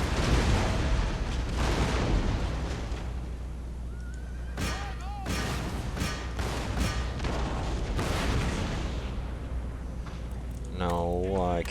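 Cannon fire in a Spanish campaign battle game booms over a noisy battlefield with horses neighing and hooves, while someone talks throughout.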